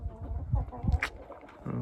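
Chickens cluck softly nearby in a short burst of low, throaty calls, with a faint murmur in the background.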